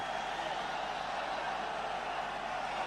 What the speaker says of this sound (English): And a bit of crowd noise as a linesman gets changed.